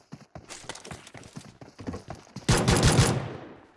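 Video game gunfire crackles in quick irregular shots, building into a dense, loud burst of rapid fire near the end, close and dry with no talk over it.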